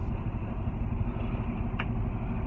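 A truck engine idles with a steady low rumble throughout, close and continuous, with a brief faint click near the end.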